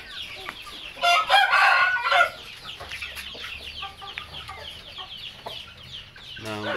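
Shamo hens cluck and squawk in a burst of loud, busy calls, then quieter clucking continues with brief rhythmic chirps near the end.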